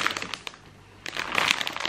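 A plastic bag of chocolates crinkles in quick, close rustling bursts as it is handled, pausing briefly before a louder flurry of crackling, with no talk.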